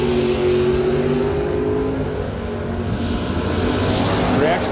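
An '88 Mustang and a Chevy II at a drag strip, engines roaring loud and close with a rising rev, while a voice talks over the noise.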